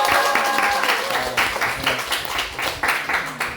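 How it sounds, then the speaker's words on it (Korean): A studio audience claps together after an unexpected song during a Korean talk event, a dense run of close, lively applause with no voices over it. "다시 한번 박수 한번 할까요?"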